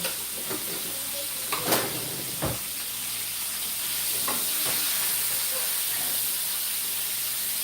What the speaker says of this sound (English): I'm going to let the bacon cook a little bit more before I throw the sausage in there